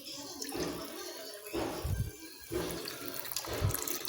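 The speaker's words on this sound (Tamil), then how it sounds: "இப்போ நம்ம புளி ஊற்றிக்கலாம்." Tamarind water is poured into a pan of dry fish kulambu, giving a splashing, gurgling liquid sound in several short surges at close range.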